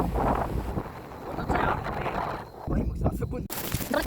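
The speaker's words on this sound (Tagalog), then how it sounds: "sa sobrang lakas ng hangin sa tuktok ng bundok" Strong, gusty wind roars and buffets the microphone steadily, with a brief low thump near the end and muffled voices partly audible.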